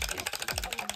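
Two eggs beaten briskly in a bowl with a whisk or chopsticks for tamagoyaki, a close, steady run of quick clicking strokes against the bowl with no voices.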